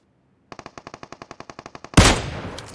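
Automatic gunfire in the PUBG Mobile battle royale game: a steady rapid burst of about sixteen evenly spaced shots, followed by a loud, sharp blast that rings out and decays, with no talking.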